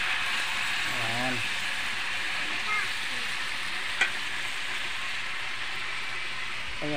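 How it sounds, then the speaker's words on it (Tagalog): Pata hamonado, a pork hock, fries in a pan with a steady, close hiss and crackle that holds throughout, under faint stirring, while a voice speaks briefly in the background. "iprito muna natin ng konti yung ating pata"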